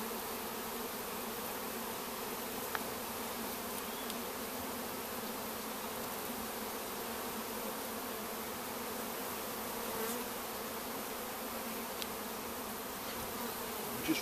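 Honey bees drone steadily around an open commercial brood box during a Bailey comb exchange. The buzzing is continuous and close, with no talking and only a few faint clicks from handling the hive.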